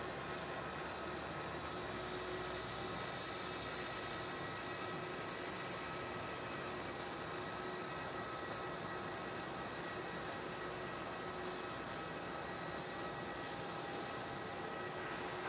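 Jet aircraft at Melbourne Airport, among them a Boeing 737 Max 8, produce a steady, distant engine roar that holds evenly throughout with no speech.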